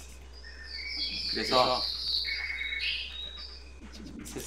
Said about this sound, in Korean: 지금 새소리가 계속 나네요.